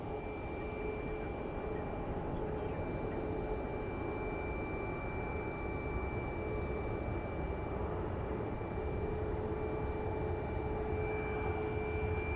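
An airliner departing Phoenix Sky Harbor airport, its jet engines giving a loud, steady roar with a sustained whine running through it, the sound holding strong for the whole stretch with no talking.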